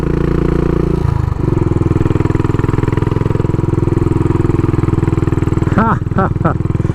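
A 2020 Royal Enfield Bullet Trials Works 500 Replica with a 500 single-cylinder engine runs close by, its loud, even thumping pulse steady throughout, briefly changing note near the start, with a few faint chirps late on.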